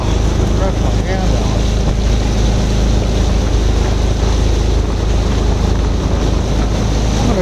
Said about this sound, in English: I'm going to drop in behind her Mokai into some smooth water to keep the spray off the camera